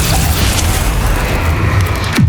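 Imperio curse cast in Hogwarts Legacy, a loud, dense magical rumble and whoosh sustained for about two seconds, ending in a brief falling swoop.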